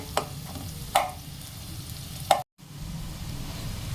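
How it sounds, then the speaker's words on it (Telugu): Chopped onions fry in a pan for a capsicum dry fish dish, giving a steady soft sizzle with a few sharp utensil clicks and one brief dropout. "కట్ చేసిన ఉల్లిపాయలని దీంట్లో యాడ్ చేసేసి ఫ్రై చేద్దాం."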